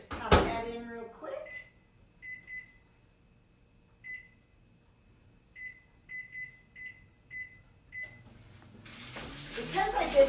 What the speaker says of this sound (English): I'm gonna pop these in the microwave